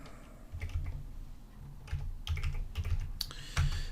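Keys on a computer keyboard tap in short irregular bursts as recipient details for a 1099-NEC form are entered in Excel, close and fairly quiet with no voices.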